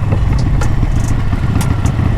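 A Harley-Davidson 1200 Classic motorcycle out on a cruise gives a steady, loud low engine rumble with wind buffeting, close and continuous with no talk.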